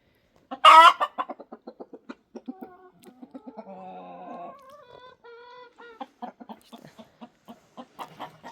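Chickens cluck repeatedly nearby in short rhythmic bursts, with one loud squawk at the start and softer murmuring clucks throughout.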